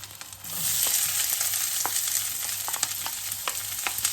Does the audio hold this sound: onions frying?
yes